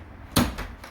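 A single solid thump of a car door shutting on an MK4 Golf GTI, brief and close, with a short rattle fading after the impact.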